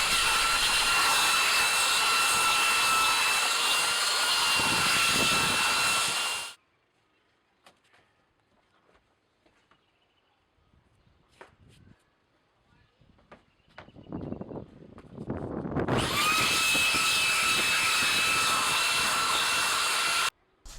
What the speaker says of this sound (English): And then a belt sander to smooth it all off.